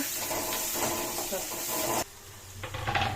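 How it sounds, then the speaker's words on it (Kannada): Green chillies and onions fry in a pan with a steady sizzling hiss that breaks off abruptly partway through, then faint stirring scrapes and crackles return. "ಹಸಿಮೆಣಸಿನ್ಕಾಯಿ, ಈರುಳ್ಳಿ ಸ್ವಲ್ಪ ಹಾಕಿ ಚೆನ್ನಾಗಿ ಫ್ರೈ ಮಾಡಬೇಕು"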